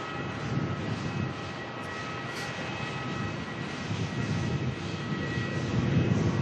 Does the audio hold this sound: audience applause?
no